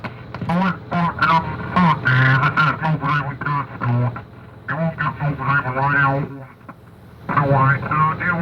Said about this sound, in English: the lifeboat inspector switches on the radio systems to hear a voice from the deep